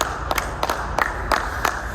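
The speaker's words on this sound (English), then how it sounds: "clapping" Steady rhythmic clapping closes out a podcast episode, with sharp, evenly spaced claps about three per second, close and moderately loud with no talking over them.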